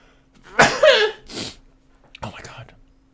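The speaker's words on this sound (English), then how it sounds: "I need to sneeze." A single close, forceful sneeze with a sharp intake and burst, followed by a short breathy exhale and a quieter snort-like sound afterward.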